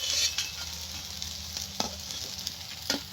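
Bora fritters fry in a pan with a soft, even sizzle and crackle, with a few sharp ladle taps and scrapes against the pan along the way.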